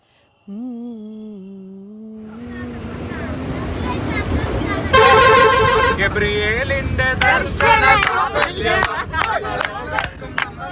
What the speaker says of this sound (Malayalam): ആ ഹോണടിയാണ്